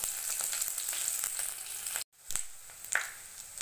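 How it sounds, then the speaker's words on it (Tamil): Green chilies frying in hot oil for lemon rice give a close, quiet bright sizzle that cuts out briefly near the middle and then resumes with a few crackles; no one speaks. "மிளகா ஆட் பண்ணி கொஞ்சம் நேரம் பொரிய விடுங்க"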